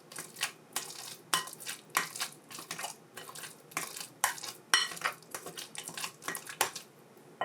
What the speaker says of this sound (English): I'm just going to use a potato masher and break all these down.